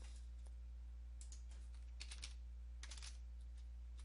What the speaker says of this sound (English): Once you've done that, you want to type in dir